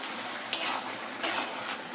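Spinach cooked with bori (sun-dried lentil dumplings) and a spoonful of sugar being stirred in a frying pan: two sharp, close scraping sweeps of a spatula over a soft background sizzle, with no voices.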